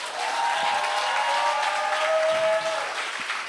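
A church congregation applauds, a dense wash of clapping that swells quickly and holds steadily for a few seconds, with faint voices mixed in before it begins to taper off.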